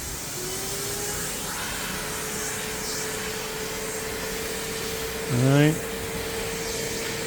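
An EGO 56v wet dry vacuum runs on speed 2 with a steady loud whine and a rising tone near the start. A brief surge comes late, and a voice speaks over the motor.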